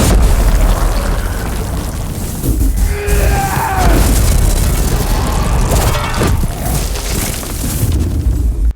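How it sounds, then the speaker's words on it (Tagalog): A powerful magical blast in a fantasy film scene tears through a place with a loud, sustained rumbling roar, layered crashing debris and swelling dramatic sound effects throughout. "winasak ang lugar gamit ang isang malakas na pagsabog ng mahika"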